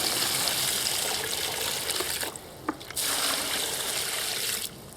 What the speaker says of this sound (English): the next thing to do, of course, is to put some water in here